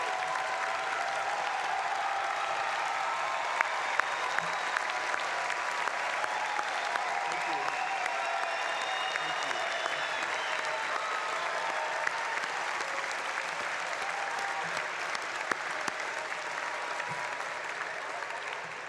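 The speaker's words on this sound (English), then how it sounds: "Let's give them a big, well-deserved round of applause." A large commencement crowd at Cal Poly's 2016 fall ceremony claps for graduates' families and friends, a long, loud, even wash of applause with scattered whoops and voices mixed in.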